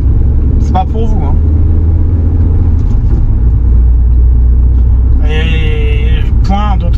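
Audi TT 1.8T quattro from 2002, 225 hp with a six-speed manual, driving at about 50: a steady low engine rumble and road drone fills the cabin throughout, with a few brief tonal sounds over it.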